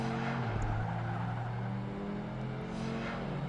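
A Mitsubishi Evo's engine in Project Gotham Racing 2 drones steadily with shifting low tones as it accelerates, a continuous close revving note with no talk over it.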